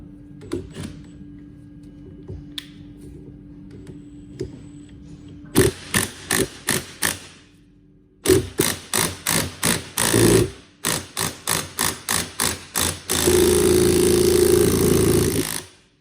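Bursts of an impact gun hammer at a bolt through a socket during gearbox disassembly on a Haas machine, coming in rapid rattling runs separated by pauses, ending in a longer sustained burst, loud and close.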